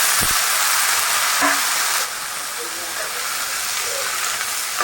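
Cowpea pods drop into a pan of onions sautéed until reddish, setting off a loud, hissing sizzle that holds steady, then drops a notch partway through and carries on.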